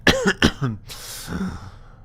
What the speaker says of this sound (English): the movement suddenly sends him into a bout of coughing